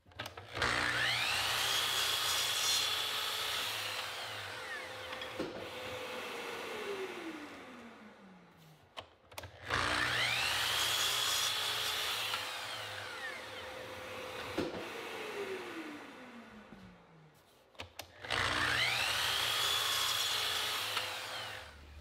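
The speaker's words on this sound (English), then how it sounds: "I've set up a stop block and I'm cross-cutting the stops at 12 inches" A power saw cross-cuts wooden drawer stops to 12 inches against a stop block: three separate cuts, each a loud close whine biting through the wood, then the motor winding down before the next pass.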